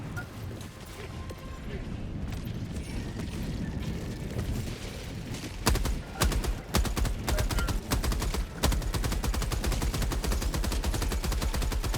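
Sentry turret gunfire in Helldivers 2 during an Illuminate defense mission, with dense, continuous automatic fire and sharp bursts layered over battle noise, loud and close throughout.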